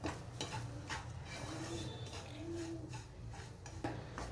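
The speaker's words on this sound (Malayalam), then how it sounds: "റവ നല്ലോണം ഫ്രൈ ചെയ്തെടുക്കാം." Semolina is roasted on a low flame in a pan, with coconut added. A spoon scrapes and stirs it continuously, making soft, dense rustling with occasional light clinks and no voices.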